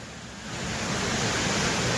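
Emperor Falls waterfall roars as a steady, dense broadband rush of falling water, loud and continuous, swelling slightly over two seconds with no voices.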